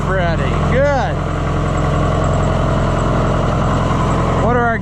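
An Oliver 1450 tractor engine runs at a steady, loud idle close by, its droning hum constant throughout, with brief rising and falling voice-like tones over it near the start and end.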